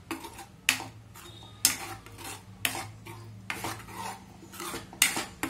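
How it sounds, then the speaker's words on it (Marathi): Mushroom masala fries in oil in a pan while a spatula stirs it, giving rhythmic scraping strokes about once a second over a faint sizzle, close up and with no talking. "हा मसाला जो आहे तो तेल सुटेपर्यंत आपल्याला फ्राय करून घ्यायचा आहे"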